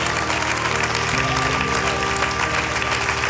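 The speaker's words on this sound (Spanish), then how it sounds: "Dele un aplauso al Señor, pero déselo con todo su corazón." Church congregation applauding during a Spanish-language sermon, a dense wash of clapping over a steady sustained musical tone from instruments, loud and continuous throughout.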